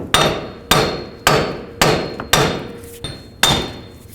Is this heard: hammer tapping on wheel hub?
yes